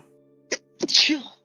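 A single close, loud sneeze: a short sharp intake followed by a bursting, hissy exhale, over a faint low background hum.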